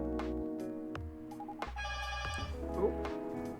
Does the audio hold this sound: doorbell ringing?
yes